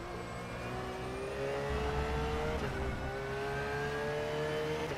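A race car in rFactor 2 at the Oschersleben circuit holds a steady, whining engine note that rises slowly in pitch as it accelerates, with a brief dip from a gear change, loud and close with no voices.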